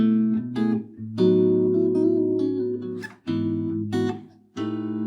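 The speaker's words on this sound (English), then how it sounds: "if I do it without a pick, it sounds like this." A guitar fingerpicked with bare fingers and no pick, warm rounded chords ringing out one after another with a soft attack and full low end, alone without voices.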